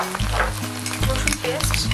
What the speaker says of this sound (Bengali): এবার আদা পেস্টটা দিয়ে দিলাম,